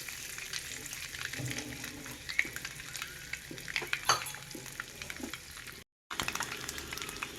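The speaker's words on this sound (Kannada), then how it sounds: "ಇದು ಚೆನ್ನಾಗಿ ಫ್ರೈ ಆಗಬೇಕು, ಗೋಲ್ಡನ್ ಕಲರ್ ಬರೋ ಥರ ಚೆನ್ನಾಗಿ ಫ್ರೈ ಆಗಬೇಕು ಎಲ್ಲ ಕಡೆಯೂ." Boiled eggs frying in a pan for egg kadai masala, a close, busy crackling sizzle with spattering pops and light stirring, cut by a brief gap near the end.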